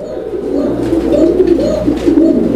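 A fancy pigeon of an uncommon colour, one of a breeding pair, coos in soft, repeated low throaty rolls, close and loud, with no talking over it.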